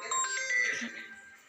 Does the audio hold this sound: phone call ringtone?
yes